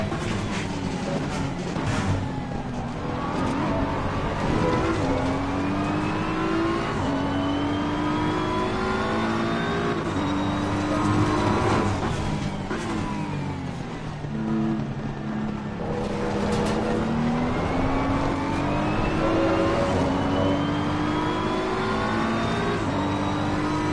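Race car engines in a racing video game roar continuously, rising and falling in pitch as gears shift and revs climb, loud and steady throughout with no talk.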